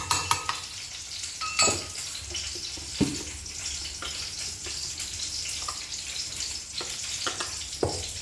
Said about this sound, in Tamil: கத்திரிக்காய் வந்து எண்ணெயில் நல்லா வெந்துட்டுருக்கு